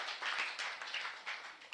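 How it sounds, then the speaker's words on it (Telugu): Audience applauding two guests at a church seed festival gathering in a prayer hall, a steady dense patter of many hands clapping at moderate distance, fairly faint, with no talk over it. "వారిద్దరికీ మరి గట్టిగా చప్పట్లు కొడదాం"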